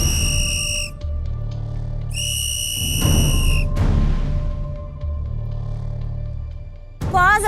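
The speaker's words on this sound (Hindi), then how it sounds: "सीटी बज गई।" A sharp, loud whistle on a televised cooking competition blows in two long held blasts separated by a pause, over a low studio hum, followed by a short warbling trill at the end.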